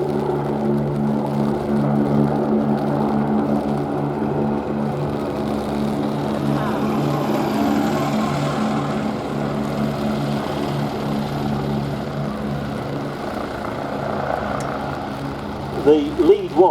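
A Westland Wasp helicopter flies past at an air show, its engine and rotor droning steadily and fairly loud throughout, with commentary over it.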